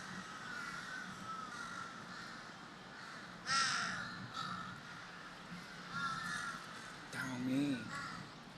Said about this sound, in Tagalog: Daming uwak, grabe.